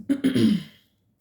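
A single short throat clearing, close and fairly loud, with a couple of rough bursts that fade out within a second.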